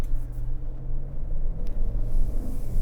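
A 2025 Cadillac Escalade's V8 engine drones steadily while driving, a low continuous rumble heard from inside the cabin with no talking.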